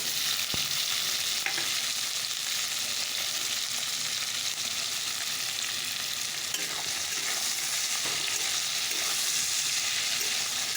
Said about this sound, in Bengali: তো চলো একটু নুন দিয়ে দিই দিয়ে ভালো করে ভেজে দিই পেঁয়াজটা